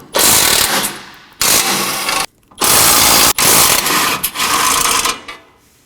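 A power tool removing 14mm bolts from the front bumper impact absorber bar of a 2020-or-later Toyota Corolla, its buzzing whir running in several loud bursts separated by short pauses.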